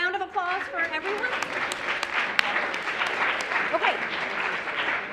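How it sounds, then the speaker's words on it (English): Audience applause fills the room at the close of a Shakespeare speaking competition, a sustained spread of clapping with a voice speaking briefly at the start and scattered sharp claps standing out. "round of applause for everyone"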